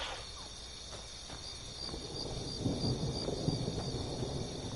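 Thunder rolls through a stormy scene in the Skyrim (Elder Scrolls 5) video game with a realism overhaul mod, a low rumble swelling in the second half beneath steady rain and a bright insect-like chirping layer.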